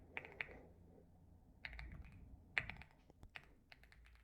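Soft, irregular clicks of typing on a computer keyboard come in short bursts with pauses between, faint and close in a quiet room.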